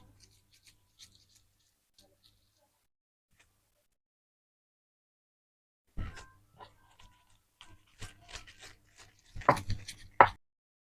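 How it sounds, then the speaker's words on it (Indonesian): Chili, shallots and garlic crushed together with a stone pestle, quiet at first, then a cluster of close, sharp pounding and scraping knocks in irregular rhythm over the last few seconds. "Kita ulek cabe sama bawang merah bawang putih jadi satu ya"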